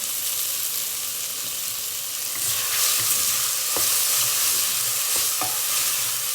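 Butter sizzles in a hot pan while being stirred, a steady frying hiss broken by a few sharp scrapes and clicks of the spoon against the pan.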